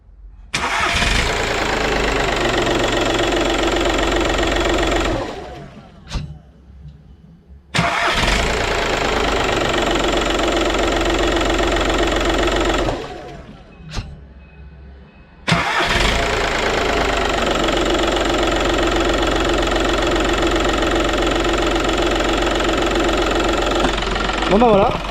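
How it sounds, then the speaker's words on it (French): A car engine starts and runs rough with a missing cylinder, clattering loudly in three long runs separated by short pauses, with a voice heard between the runs. "Ça tourne comme un tracteur, dis-moi. Gling, gling, gling, gling, ça claque, il manque un cylindre"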